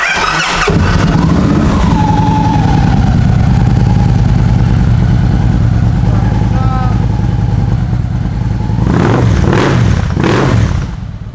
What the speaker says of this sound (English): So let's fire this beast up.